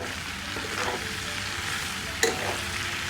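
Onions frying and being stirred in a pan, cooked village style while making a mutton tripe curry: a steady close sizzle with scraping stir strokes and a sharp clink of utensil against the pan.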